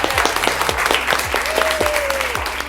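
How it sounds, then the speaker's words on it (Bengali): Applause from an audience greeting the third-place winner of a talent competition as she comes up on stage, clapping blended with bright musical tones and a sustained melodic note. "জোরে হাততালি হোক ওনার জন্য।"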